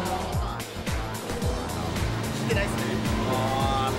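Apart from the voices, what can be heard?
Subaru Impreza race car engine returning to the pit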